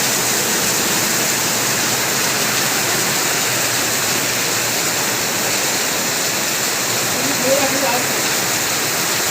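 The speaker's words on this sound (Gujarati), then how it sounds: "વરસાદ ચાલુ થઈ ગયો" Heavy rain falling on a farm field, a dense, loud, continuous roar of downpour that holds steady throughout, with a brief faint voice near the end.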